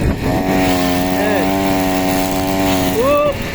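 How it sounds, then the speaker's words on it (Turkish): A petrol grass trimmer runs close and steady, cutting weeds in a garden with a sustained buzzing drone whose pitch rises briefly twice as the engine is revved. "Şu şekilde ot motoruyla otları vuruyoruz yavaş yavaş."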